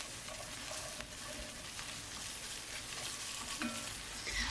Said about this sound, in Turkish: 1 yemek kaşığı kadar da domates salçasıyla öncelikle kavuruyorum.